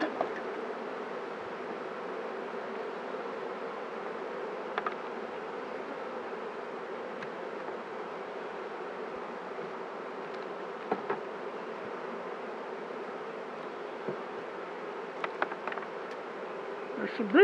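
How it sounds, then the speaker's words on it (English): Honeybees buzzing steadily inside an open hive during an inspection with smoke, a continuous droning hum at moderate level with a few faint clicks from handling the frames, no talking. "They're buzzing with that smoke."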